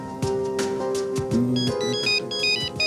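A mobile phone ringtone plays an electronic melody of bright repeating tones, loud and continuous, with no talking over it.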